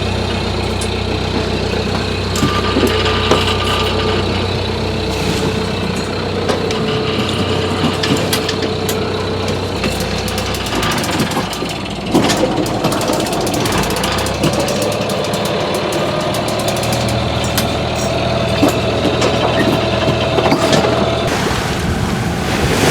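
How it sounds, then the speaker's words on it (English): A sailboat's engine drones steadily and continuously, mixed with water wash and wind noise out on open water, with no talking. "So we're going to start up the engine."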